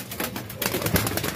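Pigeons cooing inside a loft, soft low murmuring calls overlapping in a close, cluttered backdrop with rustling.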